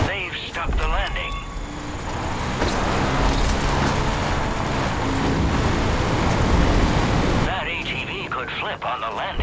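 A car in the video game Far Cry 5 drives over wooden ramps: a loud, steady engine roar and road rumble for most of the stretch, easing off near the end.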